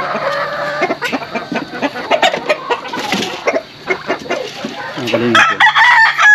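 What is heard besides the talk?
roosters clucking and crowing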